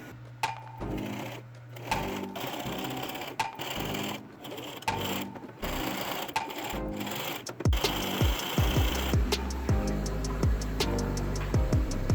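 A sewing machine stitching fabric tiers of a tiered skirt, in several bursts of fast rhythmic needle chatter separated by short pauses, growing louder and steadier toward the end.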